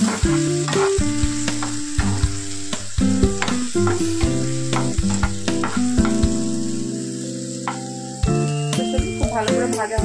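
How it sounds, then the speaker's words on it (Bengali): Flattened rice and vegetables fry in an oil-filled pan with turmeric added, giving a loud, steady sizzle with stirring scrapes, under background music. "খুব ভালো করে ভাজা হয়ে যাক।"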